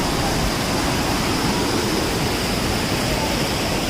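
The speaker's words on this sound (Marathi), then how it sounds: "यो सही धबधबा एक नंबर" A loud, constant rushing roar of a waterfall fills everything, unbroken and close, with no one speaking.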